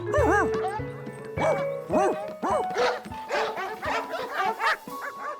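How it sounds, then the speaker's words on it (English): Cartoon dogs barking and yipping in a rapid, overlapping series of high, bouncy, animated barks, loud and close, with a few whimpering yelps mixed in. "The whole place was filled with strange dogs."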